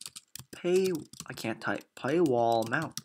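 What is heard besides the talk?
typing on a computer keyboard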